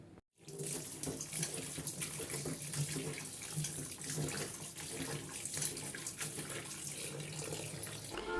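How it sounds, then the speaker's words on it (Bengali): Small puti fish being rubbed with salt and rinsed under a running kitchen tap, with steady water splashing and spattering continuously throughout, close and fairly loud, with no talking. "লবণ দিয়ে মাছটা ভালো করে মেখে নেব"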